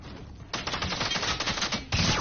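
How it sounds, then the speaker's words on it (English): Rapid automatic gunfire in Fortnite, a dense burst of shots that starts abruptly, runs steadily for over a second, then a louder burst follows, heard alone without speech. "Hey, someone's shooting over here."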